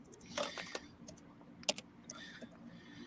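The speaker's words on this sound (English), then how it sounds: "Somebody typing?" Someone types on a computer keyboard with light, irregular clicks and short bursts of keystrokes. The typing is quiet and sounds slightly distant, with faint room noise behind it.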